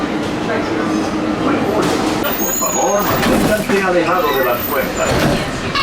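Walt Disney World monorail ride heard from inside the car, with a continuous rumbling rolling noise and rising motor whine under close conversation and a recorded onboard announcement.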